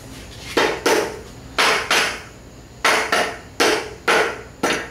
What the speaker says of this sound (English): Rubber hammer time.